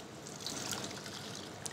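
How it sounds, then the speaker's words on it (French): Syrup trickles into a saucepan in a faint, steady pour lasting a couple of seconds, heard quietly and close by with no voices. "On va tout de suite remettre un petit peu de sirop dans la casserole"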